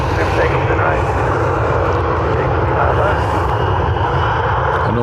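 A fixed-wing airplane takes off from runway 10R at Dublin Airport with a loud, steady engine roar that fills the whole stretch, while radio and voice talk are heard over it.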